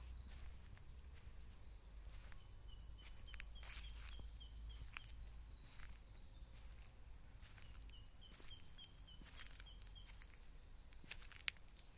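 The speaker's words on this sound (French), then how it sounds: "Vous entendez les oiseaux" Small birds sing outdoors during a countryside walk, with two separate bursts of high, rapid trilling heard faintly against a low background rumble.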